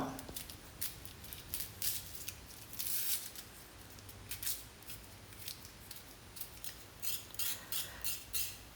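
Potato, onion, tomato and green chilli for a mixed vegetable curry are peeled and chopped, a quiet close run of irregular crisp scraping and cutting strokes, some clustered quickly, with faint room hum beneath.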